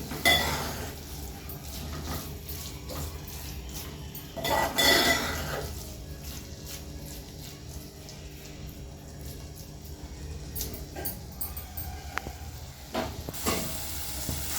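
Amaranth leaves (thotakura) stir-frying in a pan, with a steady close sizzle throughout and repeated scrapes and clinks of a spatula against the metal as the greens are tossed.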